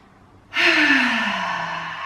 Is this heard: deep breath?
yes